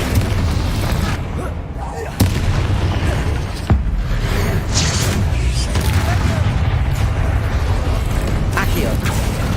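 Fiery spell blasts from the Confringo curse in Hogwarts Legacy boom and crackle through a dense, loud mix of combat effects, with a couple of sharper bursts standing out and no clear talk.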